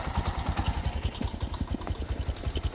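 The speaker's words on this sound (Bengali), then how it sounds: "এই যে ইঞ্জিনের আওয়াজটা শুনে।" Up close, a Bajaj CT 110 motorcycle's engine chugs at a steady, even rhythm during an early-morning ride, its low firing pulses joined by light mechanical rattle, with no one talking.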